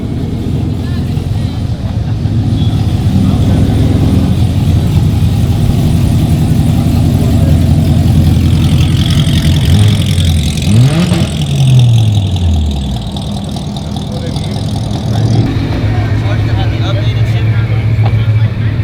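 A car revving at a car meet, its engine climbing in a few loud swells over a steady idle while people talk nearby.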